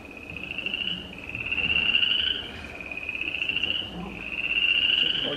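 A recorded ferriarum frog calls in long, drawn-out trilling pulses that swell and fade in a steady repeating pattern over a noisy background.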